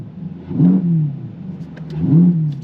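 Chevrolet C8 Corvette 3LT coupe revved in neutral, heard from the cabin: two rising engine swells, each climbing and falling away, with a steady idle rumble between them and no talk.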